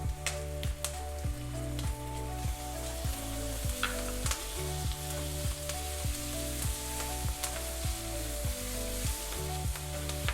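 Steady loud sizzling of ginger garlic paste and onions frying in hot oil for butter chicken, with occasional sharp pops and crackles, close up and continuous.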